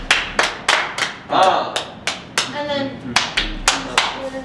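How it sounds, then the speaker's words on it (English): Hand clapping during a dance lesson: about a dozen sharp, close claps in a steady rhythm, with a voice talking over them. "Okay, so clap."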